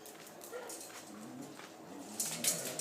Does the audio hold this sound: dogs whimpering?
yes